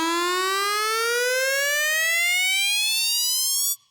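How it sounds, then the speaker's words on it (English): A synthesizer tone with the modulation wheel sweeping filter cutoff and resonance while the pitch bends steadily upward, the timbre thinning as it climbs; a loud, continuous sustained sound lasting nearly four seconds before cutting off abruptly, with no talking. "this will become thinner and thinner since I added not only the pitch and bend here, but also the modulation"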